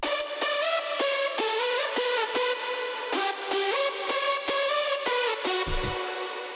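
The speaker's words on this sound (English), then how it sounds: "So the lead on its own sounds like this." A hardstyle synth lead plays alone in FL Studio, a bright, buzzy, heavily layered melody of rapid detached notes in a driving rhythm, loud and upfront, with no voices.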